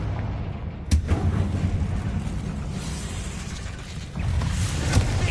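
A Confringo blasting spell in Hogwarts Legacy bursts with a sharp explosive crack, followed by rumbling booms and a second impact near the end, loud and close over low background noise.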